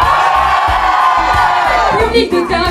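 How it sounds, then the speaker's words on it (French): A drag show audience in Limoges shouts and whoops together, a loud, dense wall of crowd voices with rhythmic thumping beneath it and no pauses. "Un public de drag show crie."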